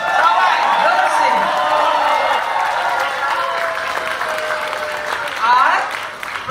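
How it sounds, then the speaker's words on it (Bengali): An audience at a Mahalaya stage performance applauds steadily with some cheering, while a voice speaks over the clapping throughout. "আর জোরসে হাততালি দাও"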